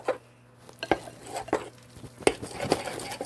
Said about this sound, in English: Make sure to whisk well.